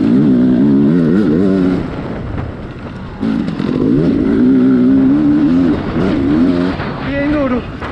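Enduro motorcycle ridden over rough jumps on a motocross track at Vila Boa de Quires, its engine loud and close, revving and rising in pitch through throttle bursts, with a brief dip midway and a voice speaking over it.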